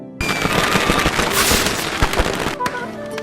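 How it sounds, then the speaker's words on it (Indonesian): Firecrackers burst in a dense, crackling barrage at a lively dance celebration in an Indian film, the rapid pops overlapping into a continuous loud rattle that keeps rolling throughout. "yang menyebabkan semua petasan yang ada di sana meledak"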